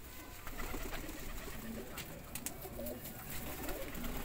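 Long-bodied flying teddy pigeons coo softly and intermittently in a loft, with faint scattered background noise and no speech.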